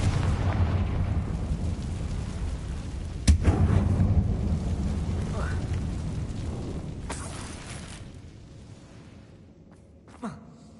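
Magical blasts from the Bombarda and Confringo spells in Hogwarts Legacy, set in a closed mine like a tomb: a sharp crack, a long rumbling roar under it, another hit midway, then a smaller burst as the rumble fades.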